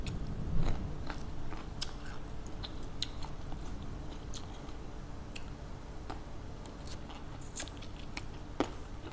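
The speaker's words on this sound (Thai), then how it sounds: "ดอกแครลวกดอกกำลังกินเลยค่ะ" Someone chews blanched sesbania flowers close up, a steady run of soft crunchy bites and wet mastication with small clicks, no talk.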